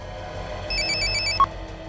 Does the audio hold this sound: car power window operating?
no